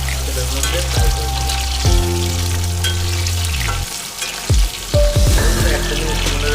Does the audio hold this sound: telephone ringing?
no